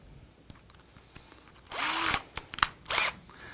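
A power drill driving screws into a cord tensioner for a honeycomb shade, with faint clicks and then two short, loud whirring bursts, close by.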